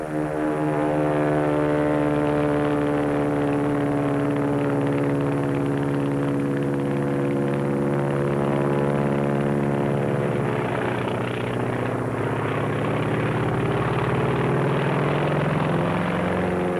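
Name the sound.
Japanese Zero fighter plane in flight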